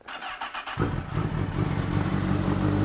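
A Honda CBR motorcycle engine catches and settles into a loud, steady idle close by, with no talk over it.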